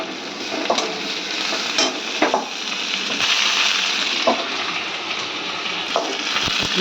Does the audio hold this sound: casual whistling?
no